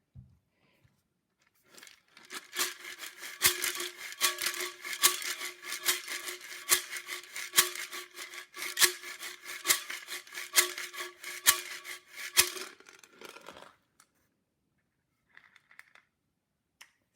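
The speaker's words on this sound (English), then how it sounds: "the rice in the glass jar." A homemade shaker made from a glass jar filled with rice, shaken in a steady rhythm for about eleven seconds, giving a dense, bright rattling hiss with regular accented strokes, close and fairly loud, followed by a short faint rustle.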